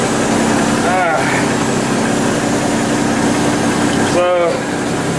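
Heavy truck engine idling steadily at close range to build air pressure for an air PTO crane, a constant loud rumble with two brief hissing air bursts near one and four seconds.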